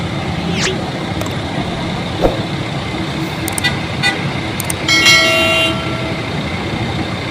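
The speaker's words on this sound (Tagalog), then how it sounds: "grabe yung traffic" Heavy road traffic on EDSA beside the MRT station in Manila, a steady loud roar of engines with a few short horn blasts and brief tonal bursts near the end; no talking.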